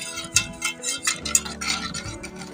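Homemade chocolate syrup made with milk is stirred in a pan over a low flame, with close, repeated scraping and light clinking of a utensil against the metal in a gentle, steady rhythm.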